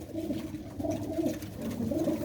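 Pigeons bred for flying coo in low, rolling phrases from close by, repeating every second or so with no voices over them.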